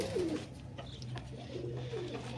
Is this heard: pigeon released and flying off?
yes